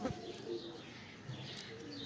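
Soft, low cooing from a racing pigeon in short murmured phrases, fairly close, over a faint background hum.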